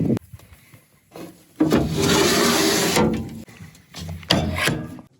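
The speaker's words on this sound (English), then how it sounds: "then we're gonna slide these drawers in" Wooden drawers loaded with wood splits slide into a direct heat smoker used for pork butts, giving a long scraping rub of wood on wood followed by shorter knocks and slides, close and fairly loud.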